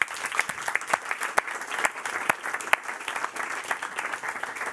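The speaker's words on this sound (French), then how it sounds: "Je vous propose maintenant d'applaudir Romain Ascenso." An audience applauds to welcome a guest, Romain Ascenso, onto a business talk stage: dense, steady clapping from a crowd, with sharper individual claps standing out, sustained throughout without speech.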